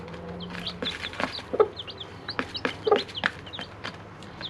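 A hen and her newly hatched chicks cluck and peep inside a henhouse, with repeated short clucks and high chirps close by, loudest around the middle of the stretch, with no talk over them.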